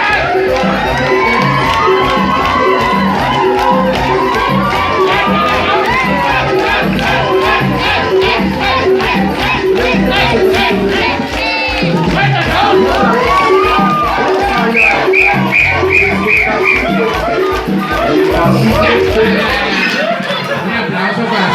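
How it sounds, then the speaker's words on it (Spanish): A lively crowd of children and adults at a clown show for a children's party cheers, shouts and claps continuously and loudly, with chatter and excited cries throughout. "¡Apláudale!"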